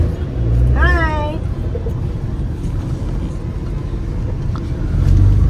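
A family car on the road: a steady low engine and road rumble from inside the cabin throughout, with a brief tonal voice-like sound early on.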